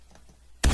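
A brief sound sample from the video game Fallout hits suddenly after a quiet lead-in, a loud, broadband, crashing burst that sustains to the end.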